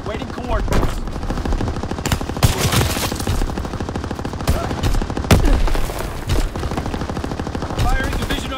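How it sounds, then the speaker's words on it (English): Artillery barrage in the World War II shooter Call of Duty WWII, rendered as rapid, dense gunfire bursts with heavier impacts, loud and continuous during a free-for-all match. "Firing division artillery."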